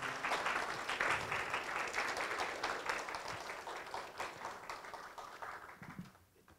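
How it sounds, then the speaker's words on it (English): A business expo audience breaks into applause, a dense burst of clapping that gradually thins and fades out near the end. "Let's give the speaker another round of applause."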